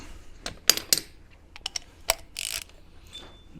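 A ratchet wrench clicks in quick irregular bursts while tightening a bolt on an 80 Series Landcruiser axle during an inner axle seal repair, close and crisp with metallic clinks and no speech.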